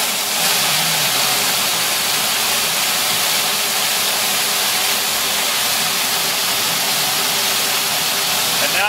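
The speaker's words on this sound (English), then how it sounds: "This is the 9/16 inch nozzle, and you'll hear it spin up." A residential water turbine with a 9/16 inch nozzle spinning up, a steady, loud broadband rush and hiss of jetting water that stays constant throughout, close by with no talk.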